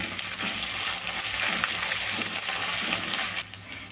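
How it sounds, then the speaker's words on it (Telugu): Ginger garlic paste frying in a pan, a close, dense, steady sizzle with occasional soft stirring scrapes. "ఒక అర స్పూన్ అయితే అల్లం వెల్లుల్లి పేస్ట్ వేస్తున్నానండి పచ్చివాసన అయితే పోయేదాకా వేసుకోవాలి"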